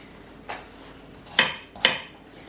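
A knife roughly chops unpeeled organic carrots on a board for chicken stock: three separate, fairly quiet knocks, irregularly spaced, with no other sound.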